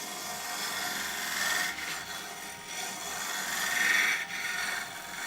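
A small bowl gouge cutting a spinning wooden bowl on a lathe, a steady close scraping hiss that swells and eases in long sweeping passes, alone without talk.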